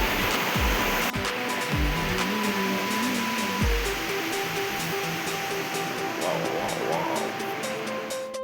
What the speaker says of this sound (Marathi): आणि पाणी पण किती जोरात वाहतं आहे बघा बघा किती जोरात पाणी वाहतं आहे बघा